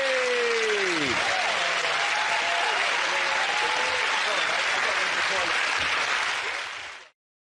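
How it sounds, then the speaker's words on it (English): A studio audience at a comedy panel show breaks into loud, sustained applause with some cheering, over a voice at the start, holding steady before cutting off abruptly. "Give that round of applause."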